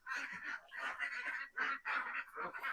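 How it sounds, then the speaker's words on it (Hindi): Ducks on a farm with fish ponds, vegetable plots and a mango orchard give repeated loud, nasal quacking calls close by, coming in quick overlapping bursts throughout with hardly a pause. "यहाँ आप देखिए, यहाँ पे बतख है"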